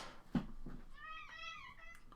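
Tank, a pet cat, lets out a short meow, a clear rising-and-falling cry close by, following a couple of soft bumps.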